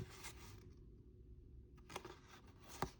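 Scissors snip through paper sheets for a folio craft in a quiet room, a few faint, sharp cuts heard near the start and again toward the end.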